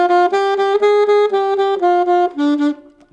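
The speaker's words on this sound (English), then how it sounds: "Second chorus, we're going to play 8th notes, which means they'll sound like this." A saxophone plays a steady run of eighth notes, each one distinct and evenly spaced, moving through a few pitches with a drop near the end. It sounds loud and close, with no talking.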